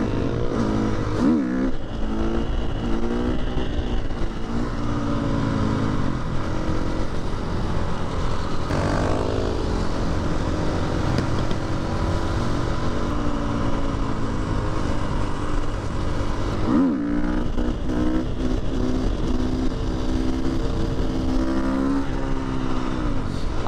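A supermoto motorcycle rides through city streets, its engine droning steadily and loudly throughout with rises and dips in revs, alongside continuous road and wind noise and no talking.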